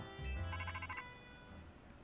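A mobile phone ringtone plays a short, bright electronic melody of repeated tones, fairly quiet and alone, then trails off.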